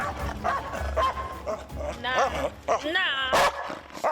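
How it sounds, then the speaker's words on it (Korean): Two dogs in a tense standoff, one barking fiercely in an attack stance at the other, sharp repeated barks and yips close by, with people's voices mixed in. "쉬고 있던 덕고 역시 달봉이가 오자 공격 태세로 돌면 매섭게 짖어대는데"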